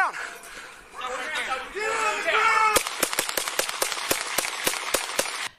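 Police gunfire in dim light during a chase, captured on an officer's body camera: a rapid string of about eleven sharp, loud shots following frantic shouting voices.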